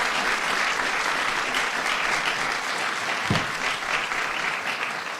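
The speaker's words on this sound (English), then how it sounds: "Let's have a round of applause for my friend Joe" An audience at a New Jersey bill-signing event applauds for a man named Joe, dense sustained clapping at an even level for about five seconds, with one low thump partway through.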